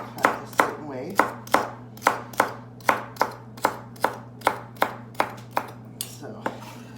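Rapid knife chops strike a cutting board while dicing vegetables, a steady run of about fifteen sharp close taps that ease off and slow toward the end, over a low hum.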